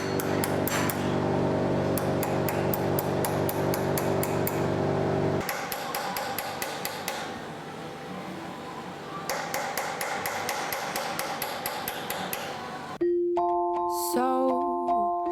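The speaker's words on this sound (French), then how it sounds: "avec l'aide du marteau de ciseleur et du ciselé, on va venir frapper le bronze pour créer le décor" A chasing hammer taps a chisel against bronze to cut a decoration, a rapid steady run of bright metallic strikes that pauses briefly and resumes, loud and close, ending in a few ringing tones.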